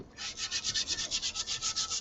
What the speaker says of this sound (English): And I'll try using that brush in a moment, the steel brush, just to see how it does on here.